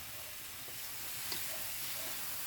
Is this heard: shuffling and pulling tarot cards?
no